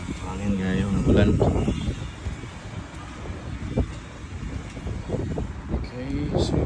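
Gusty wind buffets the microphone beside a residential swimming pool in Cebu City in rainy weather, coming in loud rushes with quieter lulls while someone speaks over it.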